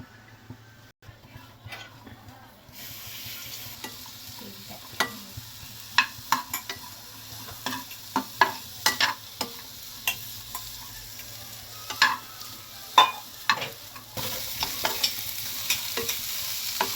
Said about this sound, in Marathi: 3 ते 4 मिनटं स्लो गॅसवर कांदा आधी भाजून घेऊ.